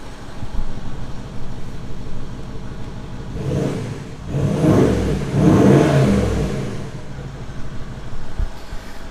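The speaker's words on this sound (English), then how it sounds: "So it sounds like a V8, but also a diesel." A Range Rover L322's V8 diesel engine idles with a deep, rough rumble, then revs up twice in quick swells before settling back to idle.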